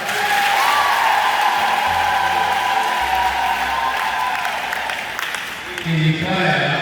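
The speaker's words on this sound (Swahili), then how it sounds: "Makofi mengi sana." A church congregation at a Catholic Sunday Mass applauds steadily, with dense clapping that swells and fades under a sustained organ or keyboard tone.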